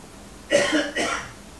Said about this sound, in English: stops coughing